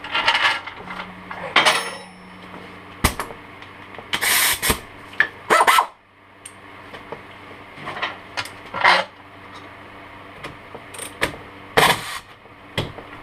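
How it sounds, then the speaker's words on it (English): An air ratchet loosens and removes a 17 mm nut and 14 mm bolt on the rear knuckle of a Grizzly 660 ATV during a bushing replacement, giving several short, loud, rasping bursts separated by quieter gaps. "I will get my air ratchet."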